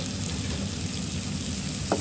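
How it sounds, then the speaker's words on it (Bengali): Kakrol fries in spiced masala, a dense, continuous sizzling crackle held close and steady throughout, with a faint tap near the end and no voices. "এখন আবারও কষানো মশলায় একটু ভেজে নেব।"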